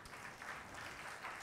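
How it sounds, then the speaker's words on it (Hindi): An audience claps together at a religious discourse, a soft, steady patter of many hands heard faintly and without talk. "ताली बजने लग गई"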